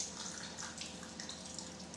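Water running from a tap into a kitchen sink, a faint, continuous hiss and splash that stays steady throughout.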